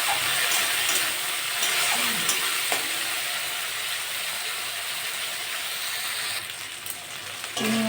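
Shrimp frying in a pan with browned onion and green chilli for a prawn, banana-flower and potato curry, a loud, steady sizzle running throughout, with a few stirring scrapes and a brief clatter near the end.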